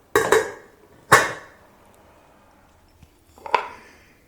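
A lid is set back onto a pot of homemade tomato wine: a few sharp, close clanks and knocks, with a pause before a final clatter, no talking.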